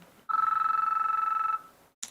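A phone rings with an incoming call: a steady electronic ringtone lasting about a second and a quarter, loud and close, then cut off into silence, with no talk over it.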